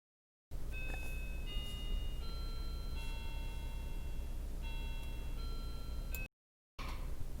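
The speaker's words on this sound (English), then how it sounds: "that was my doorbell" A doorbell chimes a melodic sequence of bright tones, one pattern repeating, ringing clearly over a steady low background hum.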